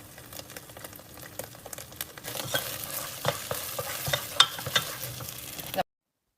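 Rosemary cooks down in a hot pan with steady sizzling and frying, overlaid by repeated scraping and stirring clicks that grow busier and louder midway before cutting off abruptly.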